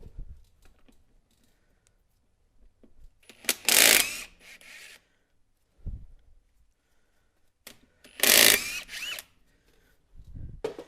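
Impact gun in auto torque mode breaking loose the lug nuts on a Ford Super Duty truck wheel, two separate loud buzzing bursts of about a second each, with clanks and a low thud between them.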